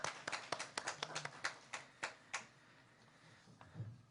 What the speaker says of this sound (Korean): 박수 축복하겠습니다.